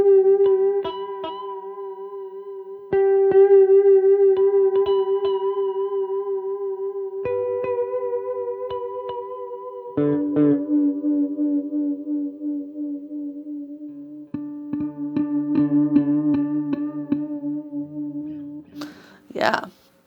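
An electric guitar through a Fender Hammertone Space Delay pedal plays sustained notes and plucked chords, its tone wavering with a strong modulation warble and delay repeats, ending in a brief burst of higher notes.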